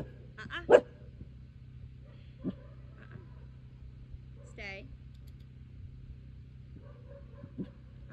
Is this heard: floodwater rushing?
no